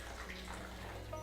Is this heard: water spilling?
yes